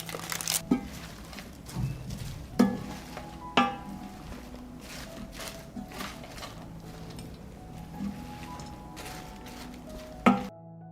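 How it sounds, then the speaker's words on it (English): Potatoes and ground meat are stirred in a frying pan, giving soft scraping and sizzling with several sharper knocks of a utensil against the pan at irregular intervals. "just combine potatoes, meat, and mix"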